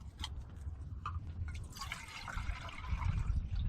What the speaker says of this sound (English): I'm going to put more water in there than I need.